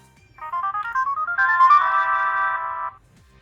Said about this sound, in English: I turn it back on and it has to play the little jingle